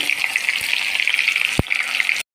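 Onions frying in sweet oil for mutton curry, a loud, dense sizzle with a couple of sharp knocks, cutting off abruptly at the end.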